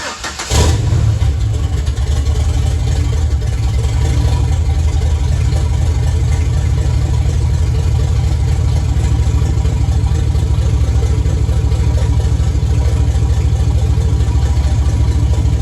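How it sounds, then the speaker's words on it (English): Turbocharged 4.3 V6 in a budget drift truck cranks and catches with a sharp burst, then settles into a loud, steady, rumbling idle that stays close and continuous with no talk over it. "it's that time for a startup with the turbo"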